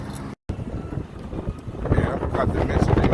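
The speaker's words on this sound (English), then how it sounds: "it's windy as hell" Gusty wind buffeting the microphone, with a brief dropout near the start and rising roar toward the end.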